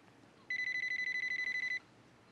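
An oven timer rings in a home kitchen, giving a fast electronic trill of even pulses for just over a second, loud and clear against quiet background.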